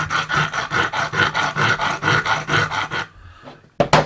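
A triangular engineer's file scrapes rapidly back and forth along bolt threads, about a dozen even rasping strokes, then a pause and a short final scrape.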